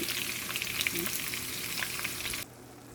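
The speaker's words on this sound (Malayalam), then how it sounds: "അപ്പം നമ്മുടെ പാൻ അടുപ്പ് വെച്ച് കടുക് വറുത്ത് നമ്മളിത് ഉള്ളി അങ്ങോട്ട് ഇട്ട് കൊടുക്കാം കേട്ടോ." Onions frying in oil in a pan with mustard seeds, part of a mutton masala preparation; a steady, close sizzle with faint crackles runs for most of the clip, then drops abruptly to quiet near the end.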